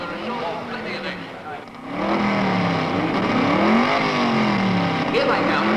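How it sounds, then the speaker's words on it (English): Race cars revving on a circuit's starting grid at a 1971 Holden event, loud rising and falling engine notes blending as several cars rumble close by. "they're calling the cars out onto the starting grid for the race of the day"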